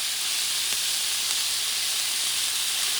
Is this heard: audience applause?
no